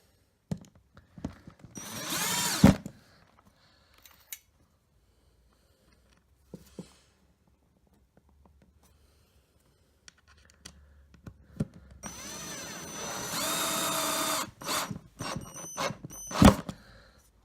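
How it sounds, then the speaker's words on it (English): A power drill drives screws into a kitchen worktop being built into a corner desk: a short whir, a long quiet gap with small knocks, then a longer buzzing run and final bursts, close by. "Now I have to put the screws in."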